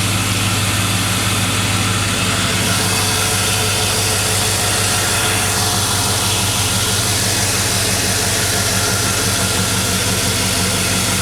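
Chevy 5.3 V8 with a newly installed Delta Force intake idling steadily up close, a loud, even rumble with a constant exhaust note and no talking.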